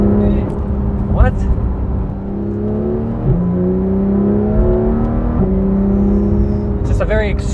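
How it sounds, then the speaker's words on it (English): A Porsche 911 (991) GT3 RS engine on its stock exhaust revs up repeatedly through the gears, its exhaust rising in pitch, dropping at each shift, then climbing again, loud and close. "It's just a very exquisite noise. This is the stock exhaust."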